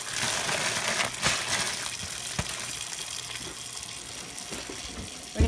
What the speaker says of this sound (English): So we're just going to put this in a bowl with hot water.